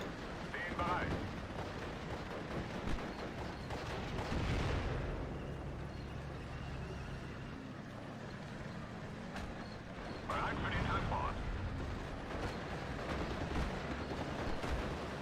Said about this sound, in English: I'll just get my mortar to hit the rifle leader and the stormtroopers